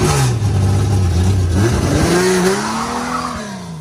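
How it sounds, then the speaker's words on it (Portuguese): A Chevrolet Caravan's engine rumbles up close, then revs, its deep growl climbing in pitch through a couple of rising pulls before easing off, loud and without talk. "Olha o motor desse carro, galera."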